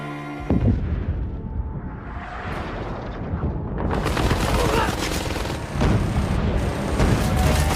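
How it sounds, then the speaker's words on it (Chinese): Heavy 105 mm cannon fire from a C-17 aircraft strafing ground fighters in a war film, booming blasts and rapid gunfire rolling together into a loud, dense barrage with no clear gaps. "一架C-17运输机搭载的105毫米口径的火炮，朝着地面上的塔利班成员疯狂输出"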